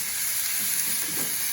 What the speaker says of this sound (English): the meat kind of stir frying a little bit